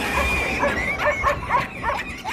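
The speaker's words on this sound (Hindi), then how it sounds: "इंडिया में जब कोई रात को कुत्ता भौंकता है" A dog barks at night in a quick run of short, close yips and barks over a steady background hum.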